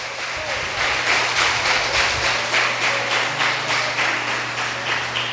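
A church congregation applauds together in praise, a dense, steady wash of many hands clapping in a loose rhythmic pulse over a low hum, continuous and fairly loud throughout.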